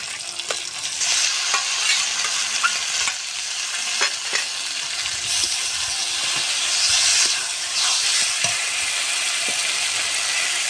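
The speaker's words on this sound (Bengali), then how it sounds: "মশলার সঙ্গে চিংড়ি মাছটা সুন্দর করে ভাজা হয়ে গেছে। এবার আমি সবজিগুলো দিয়ে দেব।" Vegetables stirred into prawns frying with spices in a pan: loud continuous sizzling and hissing with repeated scraping clatters of a spatula, close and busy throughout.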